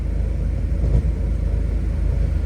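A 1967 Volvo 1800S with its Volvo 1800 engine driving along, giving a steady, loud low rumble of engine and road noise that holds throughout with a slight swell near the middle.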